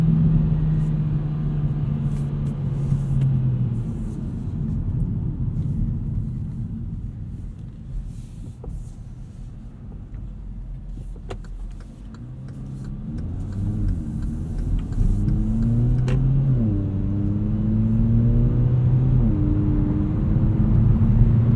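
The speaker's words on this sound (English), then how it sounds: "You can hear just a faint burble on upshifts there between gears." A 2017 Hyundai Elantra Sport with a 7-speed dual-clutch gearbox in sport mode, heard from inside, gives a steady engine drone that climbs in pitch through the gears, with a faint exhaust burble at the shifts.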